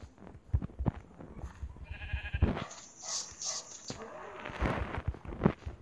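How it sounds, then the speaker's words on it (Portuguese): A sheep bleats a few times in Minecraft Pocket Edition, short game bleats mixed in with a player talking and the clicks and taps of gameplay. "Vou matar aquela ovelha"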